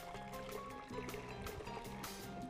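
Water pours into a blender jar holding leftover spiced mixture, a soft, faint splashing trickle with a few brief gurgling bursts.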